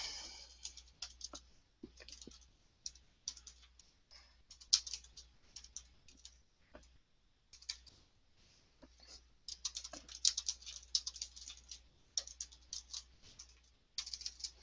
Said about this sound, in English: let me get me typing right